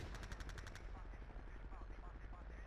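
Artillery fire in Battlefield 2 during a Conquest match, heard as a loud rumbling barrage of rapid repeated blasts under a dense, continuous wash of battle noise.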